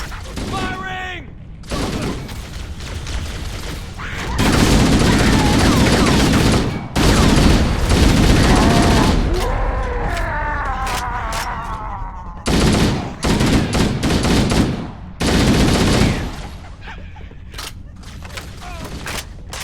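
Loud bursts of rapid gunfire from Halo: Combat Evolved, coming in dense volleys with short breaks between them, while voices shout over the shooting.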